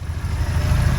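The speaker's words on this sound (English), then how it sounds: "Let's just start it up, see what it sounds like." Supercharged 1275 Mini engine running steadily at close range, a low throbbing idle with even pulsing and no voices.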